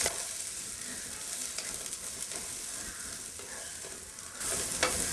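Onions and finely chopped cabbage frying in a pan for poriyal, a soft continuous sizzle with light stirring, close and fairly quiet, no talking.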